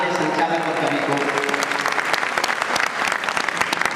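An audience at an all-India Hindi poetry gathering from 2009 bursts into applause for the host and poet, a loud, even roar of clapping with a voice carrying over it early on.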